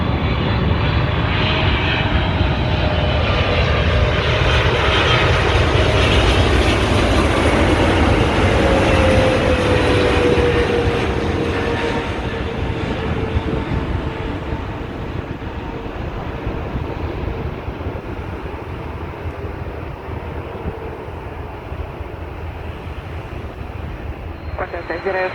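A Finnair jet lands on runway 16 right at Sydney Airport, its engines roaring loud and steady at first, then easing to a lower sustained rumble with a faint whine drifting down as it rolls out.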